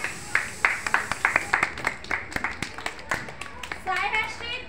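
Children in a nursery or kindergarten class clap their hands in a steady run of sharp, close claps, with a voice and classroom chatter in the background.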